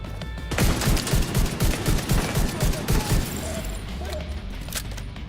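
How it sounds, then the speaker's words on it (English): Enemy gunfire in The Division 2, a rapid burst of repeated sharp shots cracking close and loud for several seconds, then easing off into quieter ambient noise. "Oh, they're shooting at my old position"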